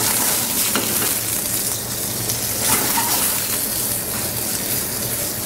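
Stuffed chicken frying in a hot pan, a loud, steady, close sizzle with a spitting, watery hiss that holds evenly throughout, no talking.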